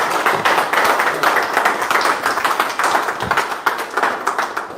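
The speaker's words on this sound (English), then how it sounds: "Big round of applause." A tech talk audience at a TypeScript serverless programming session breaks into a round of applause, dense continuous clapping from many people that stays loud and even throughout.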